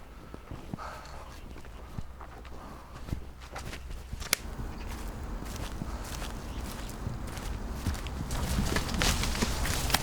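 Dubbed footsteps for a horror film fall in an uneven series of soft, close thuds and scuffs over a low hum, with a grainy, hissing ambience that swells toward the end.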